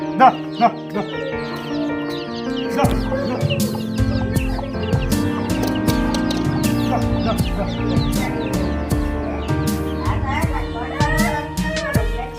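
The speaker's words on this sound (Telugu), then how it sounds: "ఏమన్నాయి కోడి పాపలు ఏమన్నాయి చూడు" Chickens and chicks cluck and peep in a busy flurry, with voices talking nearby over the farmyard chatter.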